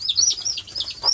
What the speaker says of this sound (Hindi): तो यार मैंने मुर्गी के बच्चों को उठा लिए